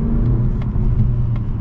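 A 2024 Mazda 3 sedan accelerating, its engine giving a steady low rumble and whir from inside the cabin, with a few faint clicks over the drone.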